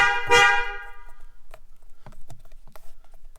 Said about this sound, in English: got to do that obligatory honk.